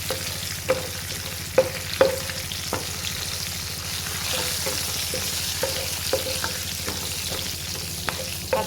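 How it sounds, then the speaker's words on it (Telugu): Black gram lentils and spices fry in oil over a medium flame, with a steady sizzle broken by crisp spatula clicks and scrapes at irregular intervals, close up and with no talking. "ఇందులోకి అవన్నీ వేసుకొని కాస్త మీడియం ఫ్లేమ్లో పెట్టుకొని అన్నీ బాగా ఫ్రై చేసుకోండి"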